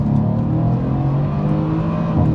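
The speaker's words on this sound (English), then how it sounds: "Show you guys the merging power of the 4-liter bi-turbo V8" Mercedes-AMG C 63 S Cabriolet with a 4-liter bi-turbo V8 accelerating hard from inside the car, a loud, steady, deep engine drone with no talk.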